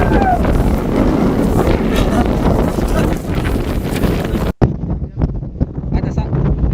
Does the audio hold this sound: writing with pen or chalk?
no